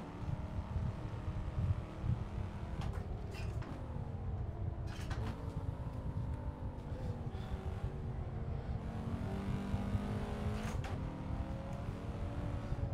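Race cars, including a BMW and a McLaren MP4 mod, roaring through a racing video game, with a continuous engine drone and shifting revs as they accelerate and brake.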